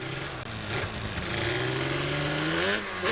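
1998 Yamaha Banshee engine revving up through the gears, a raspy two-stroke note climbing in pitch in steps, close and loud throughout, no talk.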